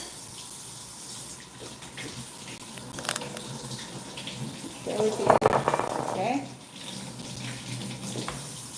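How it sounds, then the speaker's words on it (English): Tap water runs over fresh produce being rinsed after a baking-soda soak in a home kitchen, a soft steady stream that swells into a louder splashing gush for about a second near the middle, with a brief spoken word. "I'm gonna give them a quick rinse."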